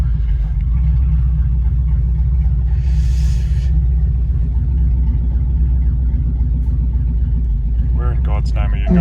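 A Mercedes 300SEL 6.3 rolls along under its own power with no working brakes, giving a steady loud low rumble throughout, with brief brighter noise and a few sharper bursts near the end.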